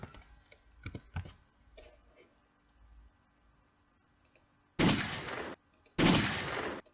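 Two loud, sharp rifle gunshot effects from a Roblox game ring out about a second apart, each with a brief tail, after a stretch of quiet keyboard typing and mouse clicks.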